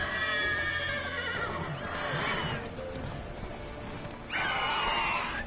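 Horse from The Witcher 3 game, hooves clip-clopping in a steady rhythm with two loud whinnies, one near the start and another toward the end.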